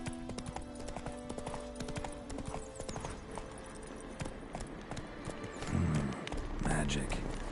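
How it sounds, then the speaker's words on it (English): Hooves of a galloping horse ridden in The Witcher 3: Wild Hunt, a steady fast clip-clop under game music and ambient sound effects, with a louder burst near the end. "Run, Roach"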